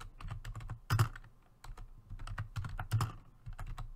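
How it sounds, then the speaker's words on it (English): Loud mechanical keyboard keys clatter in quick irregular bursts of clicks, close and clear, with a few brief pauses between flurries of typing. "Why do you have a mechanical keyboard that's so loud?"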